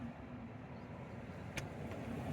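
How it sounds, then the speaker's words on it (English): A car passes on a road near Fort Clark Springs, Texas, heard as a steady, moderately loud broadband rumble of tyres and engine that fills the whole clip, with a brief sharper click partway through. "there's a car coming from each direction."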